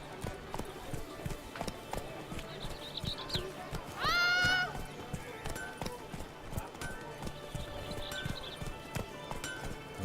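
Steady clip-clop of the horse Roach's hooves trotting in The Witcher video game, rhythmic and close, with a brief whinny midway and faint ambient sounds around.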